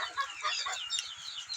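Farm broiler chickens being fed leafy vines and greens cluck in short, busy bursts close by, with faint pecking and rustle beneath.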